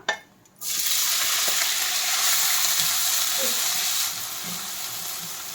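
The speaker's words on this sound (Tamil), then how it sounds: "நம்ம வெட்டி வச்ச இந்த வெங்காயத்தை எல்லாத்தையும் போட்டலாம்" Chopped onions dropped into hot oil with cinnamon, cloves, curry leaves and cardamom for prawn biryani, a loud hiss that bursts up after a brief quiet moment, then stays strong and eases slightly near the end.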